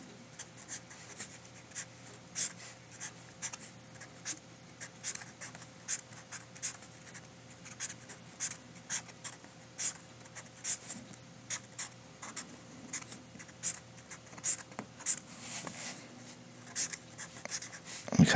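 A pencil drawing perspective lines along a ruler on paper, a quiet run of short scratchy strokes repeating steadily in close, with no talking.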